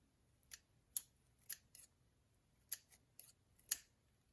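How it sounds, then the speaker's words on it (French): Scissors snipping loose threads on a decorated stick, a series of sharp, close, isolated cuts spaced irregularly against near silence. "Si vous voyez des fils qui dépassent, prenez simplement votre paire de ciseaux"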